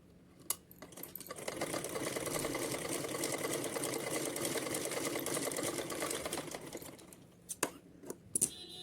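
A sewing machine runs steadily for about six seconds while stitching a Kanha ji (baby Krishna) outfit, its motor hum and rapid needle clatter close and continuous, with a few sharp clicks and handling knocks at the start and end.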